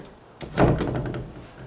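An interior door rubbing and scraping against its frame as it swings, a brief thunk at the start followed by a short dragging scrape, close and fairly quiet.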